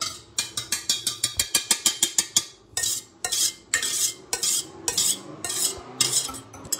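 A whisk beats sauce in a saucepan for blanquette de veau, producing rapid bright metallic clinks and scrapes in quick regular bursts, then slower separate strokes, close and loud with no talking.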